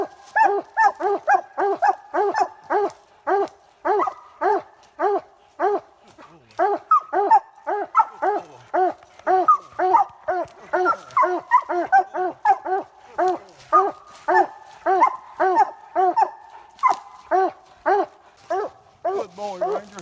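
A coon hunting dog bays steadily at a raccoon up a tree, a long unbroken series of loud, evenly spaced barks about twice a second, close by and carrying on for the whole stretch.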